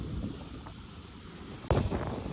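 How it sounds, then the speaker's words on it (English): Wind blows steadily outdoors on a beach, a low rumbling buffet on the microphone that swells into a louder gust near the end, with no talk. "See how the wind is helping?"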